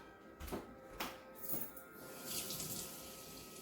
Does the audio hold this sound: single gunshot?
no